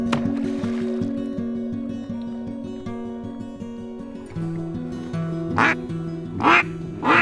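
Ducks quack in a wild marsh at Horicon Marsh, Wisconsin, during a duck hunt: a dense, continuous chorus of nasal calls with a few louder, sharper quacks near the end, heard alone without talk.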